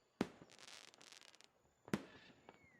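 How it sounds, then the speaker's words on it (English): Distant fireworks as a sound effect during a fantasy tabletop role-playing session: two sharp bangs a couple of seconds apart, each followed by crackling fizz, fairly faint against a quiet background. "In the distance, you hear fireworks."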